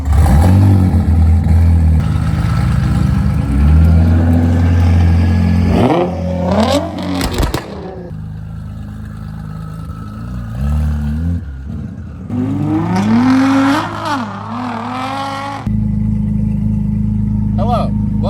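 A heavily modified Nissan GT-R of about 700 horsepower revs repeatedly and accelerates, its engine note rising and falling in several surges with crackles. It is loud and close, and people talk over parts of it.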